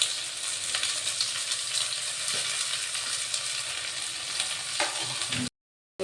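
Finely chopped onions frying in a pan with whole spices for mushroom biryani, making a steady close hiss and crackle with a few soft stirring scrapes before an abrupt cut to silence near the end.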